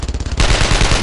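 Rapid automatic gunfire from the video game Brothers in Arms: Road to Hill 30, a short rattling burst giving way to a continuous loud roar of shots.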